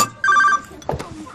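A phone ringtone chirps in a quick pulsing burst, close and clear, and a voice speaks right after it in a home setting.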